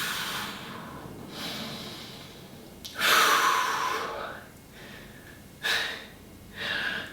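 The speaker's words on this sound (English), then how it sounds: "And we breathe." Deep, audible breaths taken while holding a strength exercise position, with several rushing inhales and exhales standing out at irregular intervals over a quiet background.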